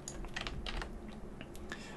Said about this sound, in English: Not much interest in me typing or watching me type them in.